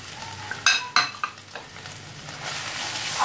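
Slit chilies, turmeric and Kashmiri chili powder fry in a pan for a duck egg curry, a close, steady sizzle broken by a few sharp utensil clinks as the spices are stirred, no speech.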